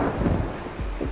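Thunder from a thunderstorm over Nepal, a deep low rumble rolling steadily with rain-like hiss beneath it, fairly loud and without voices.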